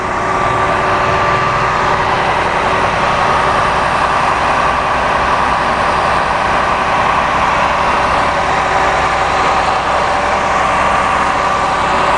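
A Cummins ISC 8.3 diesel in a 2010 Blue Bird All American 44-passenger bus idles steadily and loudly up close, a continuous deep rumble with no voices.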